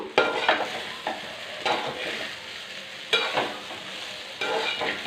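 Rice being stirred into potato masala in a pan, with repeated scraping, tossing strokes in bursts roughly every second or two and a light sizzle underneath, close and clear with no talking.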